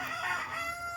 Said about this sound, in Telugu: ఇక్కడైతే మస్తు కోడిలు ఉన్నాయి గైస్.